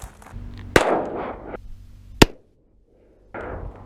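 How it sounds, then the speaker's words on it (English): Two sharp shots from a Smith & Wesson M&P 5.7 pistol about a second and a half apart, each followed by a brief ringing echo, with quiet before and after. "I'm gonna shoot it again, see if we can't get a little better angle from the GoPro"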